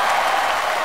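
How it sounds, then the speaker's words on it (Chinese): Studio audience at a basketball competition show applauds and cheers in a steady, loud burst of clapping and crowd noise. "我们来点掌声和尖叫声，准备迎接比赛的开始"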